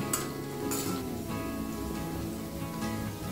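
Cumin seeds fry in hot oil in a home kitchen pan, giving a steady close sizzle and crackle with brief sharper bursts of spitting.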